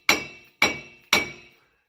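Three evenly spaced sharp metallic hammer strikes ring out on the front hub bearing of a 2003 Chevy Avalanche, each hit close and loud with a short bright ring decaying before the next.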